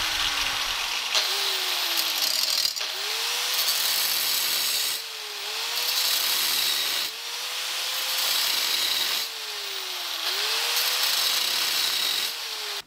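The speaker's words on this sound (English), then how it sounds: "So the first step is to cut this with a cutoff wheel." A cutoff wheel grinds through a hardened snap ring on a steering rack, a loud rasping whine with repeated passes, each cut ending briefly before the next begins.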